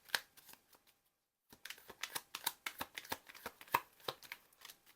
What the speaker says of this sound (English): We're gonna pull some Zodiac 108 cards.